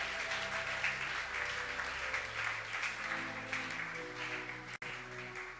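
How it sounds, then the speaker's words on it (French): A church congregation at a Sunday thanksgiving service applauds, dense sustained clapping filling the hall for several seconds under a low organ-like tone, then a brief dropout near the end. "Acclame Jésus."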